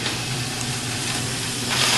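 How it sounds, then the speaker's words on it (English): Steady sizzling hiss of food frying in a hot pan, close and continuous, growing slightly louder toward the end. "We got a nice little sizzle going on."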